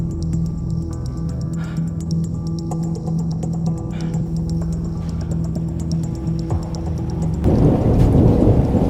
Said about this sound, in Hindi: अभी जैसे ही बारिश शुरू हुई ना उसके बाद से पूरा मौसम चेंज हो गया